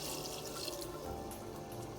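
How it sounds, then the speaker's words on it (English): Tap water runs into a pot for plantain and catfish pepper soup, a continuous close gushing and splashing with no pauses and no talk. "So I'll go ahead and add more water."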